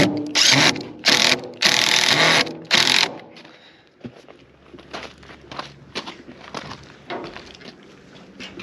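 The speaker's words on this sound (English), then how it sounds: "we just put a couple of screws in here and it's strong enough to hold it together" A power tool drives a couple of screws to hold a build together: four loud whirring bursts in quick succession up close, followed by quieter clunks, handling noise and footsteps.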